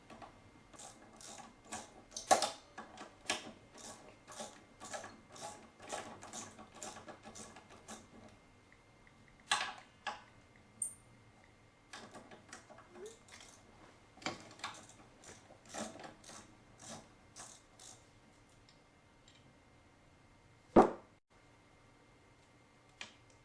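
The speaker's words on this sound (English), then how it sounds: "remove the bolt, and then we're going to remove this lower bolt, and that way we can remove the rear set" Tools working the bolts on a Honda Grom rear set: a run of quick, close metallic ratchet clicks in the first half, then scattered clicks and taps, with one sharp knock near the end.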